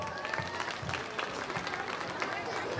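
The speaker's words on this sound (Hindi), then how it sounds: "तालियों के साथ उनका स्वागत करें" Audience at a school annual function poetry gathering clapping to welcome a poet, a steady patter of many hands with distinct claps standing out, mixed with murmuring voices throughout.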